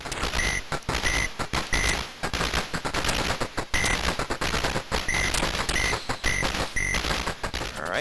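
Rapid auto-fire shooting from the Capcom arcade shooter 1942 (played in Capcom Arcade Cabinet), a steady stream of close rattling shots in short bursts with brief gaps, accompanied by beeping game tones.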